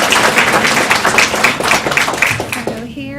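Audience applause for a high school student at a school board meeting, a dense burst of many hands clapping close by for about three seconds before it cuts off abruptly.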